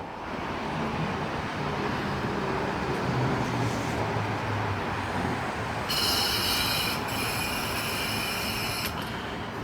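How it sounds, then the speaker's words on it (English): Sydney S-set electric train S127 pulls out of a platform, with a rumble of wheels and motors under a rising whine. A high, bright squeal of tones cuts in partway through and is heard alone without talk. "S127 and friend is now departing platform"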